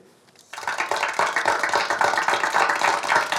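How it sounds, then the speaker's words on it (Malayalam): An audience applauds for Ambadi, a student whose model was selected for the sub-district fair, as a dense burst of clapping that starts suddenly and stays loud and steady, close and without talk. "എല്ലാവരും അമ്പാടിക്ക് ഒരു കൈയടി കൊടുക്കുക"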